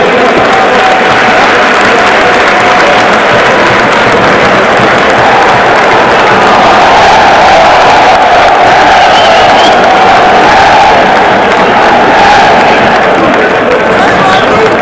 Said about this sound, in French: Applaudissements pour accompagner le chef de l'État.